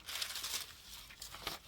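Tissue paper in a junk journal being handled, a soft, faint crinkling and rustling that comes in two close bursts near the microphone.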